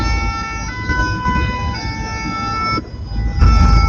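Ambulances evacuating wounded in Abidjan wail with loud, wavering sirens close by, the tones shifting as vehicles pass amid traffic rumble.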